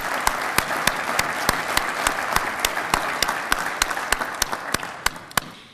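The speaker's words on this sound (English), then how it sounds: "So, give her a round of applause." An awards-event audience claps for a woman, a full steady applause with a few sharp, prominent nearby claps standing out, thinning and tapering off toward the end.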